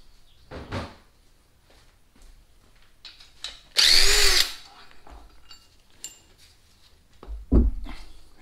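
A cordless power tool with a weakening battery strains against a stuck bolt on a Sierra truck during an engine swap: one loud, close whirring burst about a second long, surrounded by scattered clanks and knocks of tools and parts.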